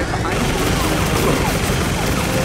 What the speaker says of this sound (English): With all them rockets shooting right behind you